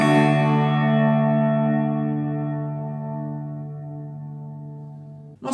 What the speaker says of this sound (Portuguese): Agora com o reverber.